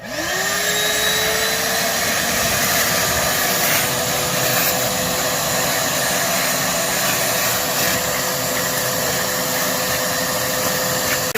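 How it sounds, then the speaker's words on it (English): A shop vac starts up and runs with a loud, steady roar, sucking water and debris from the bottom of a goldfish pond, its motor tone holding constant. "you got to finish the last little bit up with a shop vac, and that's what I'm going to do right now"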